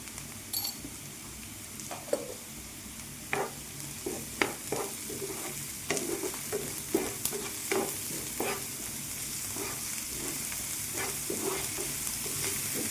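Onions sizzle steadily in a hot pan, softening as they fry, while a spoon scrapes and stirs them in repeated sharp clicks over the continuous frying hiss, close and moderately loud with no talk.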